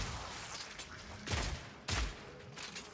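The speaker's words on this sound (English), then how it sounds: "Grenades." Crossbow-fired grenades in Path of Exile 2 burst twice in quick succession, each a deep, booming thump with a short rumble, set over busy combat noise.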